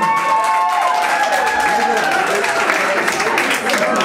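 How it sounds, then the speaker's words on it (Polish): A concert crowd at a Warsaw club gives applause for the sound engineer, dense clapping heard close and loud, with a tonal hum and some voices mixed under it. "To może jakieś brawa dla niego, nie?"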